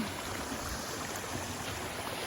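Clean water from high in the mountains pours down a rural waterfall, making a steady, dense rushing roar with no breaks or voices.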